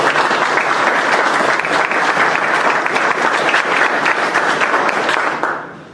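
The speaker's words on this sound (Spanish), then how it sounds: "quisiera, digamos, un aplauso" An audience at a constitutional law graduates' event bursts into loud, dense applause that holds steady for several seconds before quickly fading out at the end.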